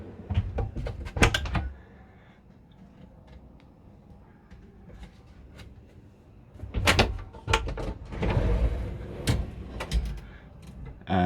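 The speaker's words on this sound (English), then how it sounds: "I think I'll show that door a little once I open the toilet door." Toilet door inside a Frankia i680SG motorhome being handled, with sharp clicks and knocks from the latch and panel in two clusters, separated by a quieter stretch of faint rustling.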